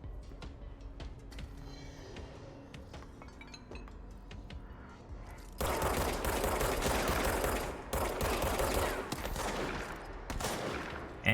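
An enemy fires a shotgun in the video game Control. Loud, broadband bursts of gunfire hit in the second half, after quieter game ambience with small clicks.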